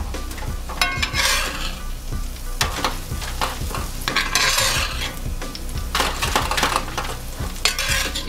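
Spinach feta turkey burgers sizzle and crackle steadily in a hot frying pan on a stovetop, with intermittent scraping and clinking of a utensil against the pan, close and fairly loud throughout.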